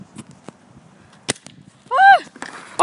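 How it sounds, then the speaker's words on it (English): New Year's fireworks go off outdoors, with several sharp, separate pops and cracks spread unevenly between quiet gaps, followed by a brief whistling, warbling burst and another loud crack at the end. "let's just watch these fireworks pop"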